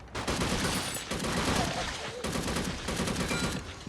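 An AK rifle fires in the zombie shooter game Unkilled, with rapid, loud bursts of automatic gunfire that pause briefly and resume, and a voice is faintly present under the shots.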